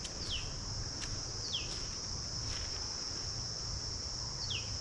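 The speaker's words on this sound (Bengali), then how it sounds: "কিন্তু এই যে এত ঝিঝি পোকার ডাক" A constant high buzzing of crickets fills a forest near Shankarpur beach, faint and unbroken, while short descending bird chirps break in now and then.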